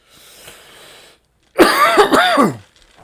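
A man clears his throat and then lets out a harsh, raspy cough with wheezing, strained rises, loud and close after a quieter breathy rasp.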